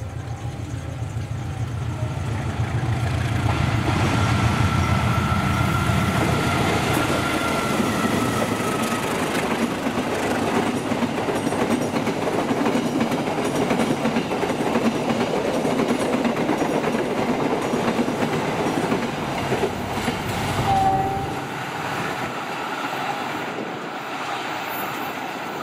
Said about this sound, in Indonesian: kereta api Berantas 112 hari ini tetap berangkat tepat waktu dari Jakartanya